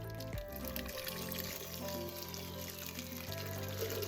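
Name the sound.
pouring hot chicken chowder into a blender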